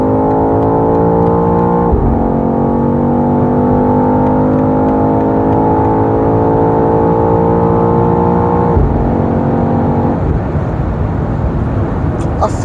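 Interior of a BMW XM G09 hybrid SUV accelerating to overtake: a steady rising engine and drivetrain whine, a brief dip near two seconds, then a long pull and another shift near the end, loud and continuous.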